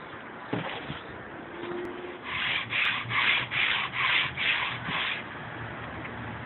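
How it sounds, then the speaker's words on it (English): Hand sanding of a wooden table's legs during refinishing produces a steady scratchy rubbing with a run of six rhythmic back-and-forth strokes in the middle, close and fairly quiet. "Okay, I'm sanding the legs now."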